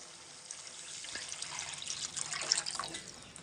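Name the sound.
water being poured into tomato curry pan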